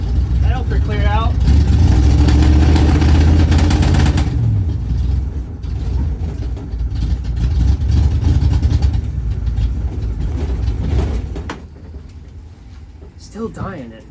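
A 1968 Ford Mustang engine, left sitting for three decades, roars loudly at high revs, then drops and settles into a rough, uneven idle with mechanical clatter, a few voices briefly audible near the end.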